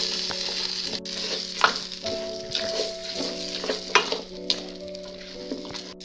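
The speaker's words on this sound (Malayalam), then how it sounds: "അരിയൊക്കെ നല്ലതായിട്ടൊന്ന് റോസ്റ്റായി വരുന്നിടം വരെ നമുക്കൊരു 5 മിനിറ്റ് ലോ ഫ്ലെയിമിലിട്ട് നമുക്കൊന്ന് ഇത് മിക്സ് ചെയ്ത് കൊടുക്കുക." Rice for a vegetable pulav roasting in a pot over a low flame, sizzling steadily while a spoon stirs it with soft scraping strokes and occasional clinks, close and moderately loud, with no talking.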